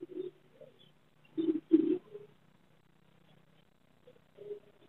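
Chirps and calls from a pair of yellow Fischer's lovebirds at a Sunday bird market in Chichawatni, a few short bursts spaced apart with quiet gaps, fairly close and moderately loud.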